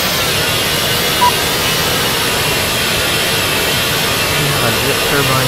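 Jet turbine whine with an APU running in Microsoft Flight Simulator X, a loud, steady broadband roar held without change from start to finish.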